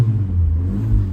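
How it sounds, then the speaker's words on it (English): A 1987 Ford Escort XR3i Cabriolet engine runs close by with a steady low rumble and a raspy exhaust note, loud and alone. "it's got that wonderful exhaust rasp when you hear it going"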